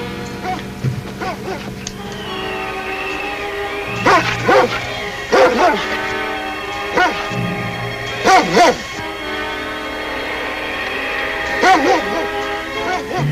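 A Mountie's sled dog team barking in bursts, several dogs yapping and yelping at moderate distance over a steady background hum, with a voice talking at points.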